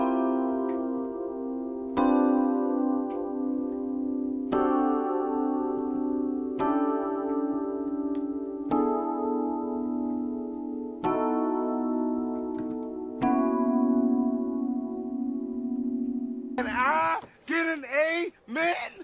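Electric guitar chords in a voicing moving through the circle of fifths from C: eight sustained, ringing strums, each held about two seconds before the next change, followed by a brief spoken voice at the end.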